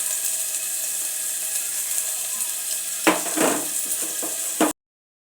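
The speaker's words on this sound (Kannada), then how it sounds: "ಸ್ವಲ್ಪ ಕಂದು ಬಣ್ಣ ಜಸ್ಟ್ ಫ್ರೈ ಆದರೆ ಸಾಕು." Oil sizzles steadily as potato fries in a pan until lightly browned, a constant hiss joined in the latter half by a few stirring scrapes and clatters, with no voices.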